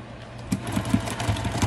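A sewing machine stitches a flying geese section of a quilt block, a close, quick run of rhythmic needle thumps and motor whir lasting under two seconds.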